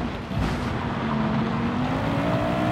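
A race car drifts through a corner in Gran Turismo 7 on a dirt course, its engine holding a loud, steady, rising whine with tire noise underneath, sounding close and continuous with no talking.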